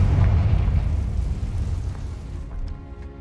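A Confringo explosion spell in a Harry Potter video game sounds as a deep, rumbling blast that slowly fades over a few seconds, with a faint game chime near the end.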